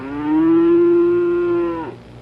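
A single long, loud moo from one head of cattle on a Georgia farm, steady and close for nearly two seconds before dropping off, with no talk.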